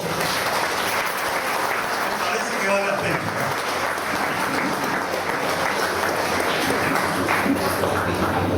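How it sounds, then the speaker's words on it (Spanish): Dense, sustained applause from a large crowd fills the whole stretch at an even loudness, with a voice speaking briefly underneath. "Un aplauso para los dos."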